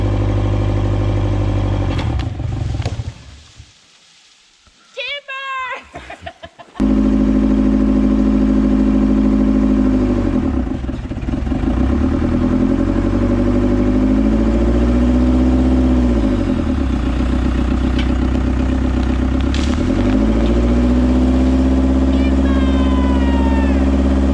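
A green tractor engine drones loudly and steadily while clearing ground, its pitch dipping and rising several times as it labors, after a brief quieter stretch with clanks.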